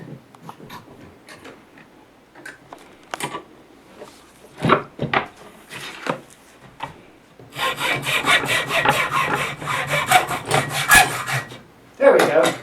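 Hand saw cutting a notch into a wooden baseball bat held in a vise, starting with scattered scrapes and knocks, then settling into a continuous rasping back-and-forth stroke close by.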